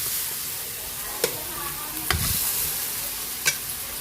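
Mung beans and pork sauté in a pan with a steady soft sizzle, broken by a few sharp scrapes and clinks of a spatula stirring, close and clear without talking.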